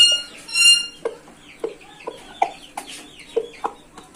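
Young Aseel chickens cluck in a steady series of short, sharp calls, close and fairly loud, with a higher squawk near the start.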